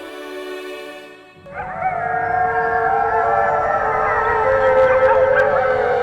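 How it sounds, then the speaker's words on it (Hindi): A jackal howls in daytime, a loud, close, sustained and wavering cry. It rises after a brief quieter opening and holds for several seconds. "दिन में सियार के रोने की आवाज।"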